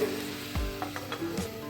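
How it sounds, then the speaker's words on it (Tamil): Potato and brinjal frying in oil in a kadai for a village-style fry, a close, brisk sizzle with a few scraping stirs and a low thud partway through. "கத்திரிக்காய் உருளைக்கிழங்கை அலசிட்டு அதையும் கடாயில் போட்டு நல்லா ஃப்ரை பண்ணுங்கள்"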